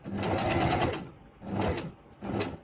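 A sewing machine stitches fabric in three close bursts, one long run and then two shorter ones, each with a fast mechanical rattle and brief pauses between them.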